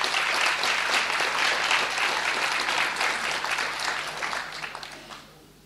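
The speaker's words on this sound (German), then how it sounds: "ich finde es einen kleinen Applaus wert" Audience applause at a public information meeting about Blankenburger Süden, a full, even clatter of many hands that carries on for several seconds, then thins out and fades to near silence at the end.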